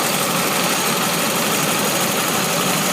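A 1999 Grand Prix GT idles with a loose exhaust pipe at the header joint, giving a steady, close, hissing engine drone with an even, rough texture throughout and no voices.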